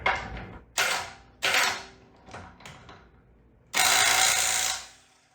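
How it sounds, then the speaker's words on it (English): Dewalt DCF921 20V Atomic cordless impact wrench working a lug nut off a bolt, several short rattling bursts with gaps between them, then one longer, louder whirring run that fades out. "after it breaks the lug nut free, it slows the impact wrench down pretty significantly so it doesn't come flying off"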